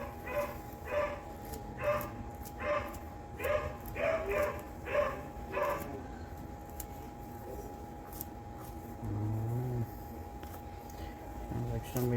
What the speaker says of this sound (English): Somebody's getting ready to let the dogs out.